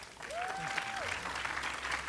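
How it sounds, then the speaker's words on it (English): An audience at the 2025 Tournament of Roses community open house applauds, a steady wash of clapping from a crowd that fills the short moment with a brief voice cutting through. "Please join me in giving a round of applause for our 2025 Tournament of Roses president, Ed Morales."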